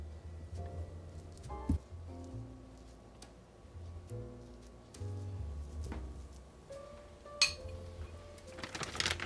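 A metal spoon clinks lightly against dishes as taco ingredients are scooped into cups, with scattered faint ticks and taps spread across a quiet kitchen background.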